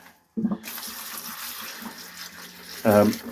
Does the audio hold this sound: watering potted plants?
yes